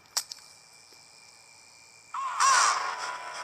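A crow caws loudly in a horror video game set in a mental hospital, its harsh call ringing out after a sharp click and a quiet stretch with a high steady tone.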